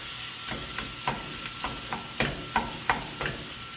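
Ground meat for pizza burgers sizzles steadily in a pan while a utensil scrapes and breaks it up in irregular clacks and scrapes, with no talking.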